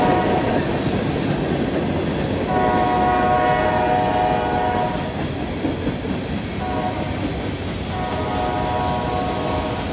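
A freight train on Norfolk Southern track, led by a leased ex-BNSF locomotive, rumbles past steadily, its horn sounding in several sustained blasts over the continuous rolling noise.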